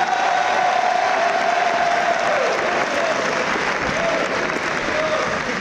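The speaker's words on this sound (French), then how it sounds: "merci pour ce tonnerre d'applaudissements pour Henri" A large audience at an evening gala gives sustained, thunderous applause, dense and steady clapping from many hands with faint cheering mixed in throughout.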